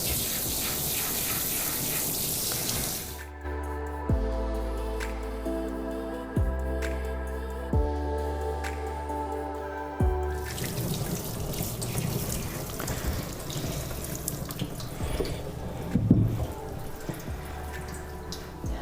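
Water running from a tap and splashing during a dog's bath, a steady loud rush that briefly gives way to a lower gurgling fill before returning to full flow, close and continuous with no talking.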